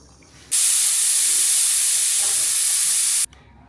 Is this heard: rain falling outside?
no